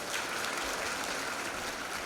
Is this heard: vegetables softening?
no